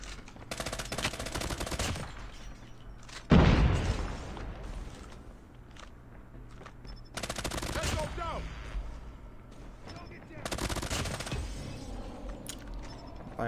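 Bursts of M13 automatic gunfire in the mobile game Call of Duty Mobile, several rapid volleys separated by short gaps, with a heavier boom near the start and lighter incidental game sounds in between.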